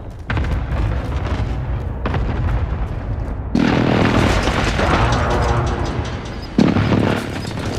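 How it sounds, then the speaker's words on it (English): Precision airstrike explosions in Black Ops Cold War multiplayer, a run of loud, heavy booms and rumbling blasts that swell sharply partway through and keep going. "Precision airstrike,"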